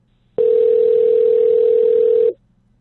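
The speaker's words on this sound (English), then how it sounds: "let's try and call the Palace of Gold again" A telephone call in the Fallout 76 video game, heard as a single steady, loud electronic tone lasting about two seconds, then cut off abruptly into quiet.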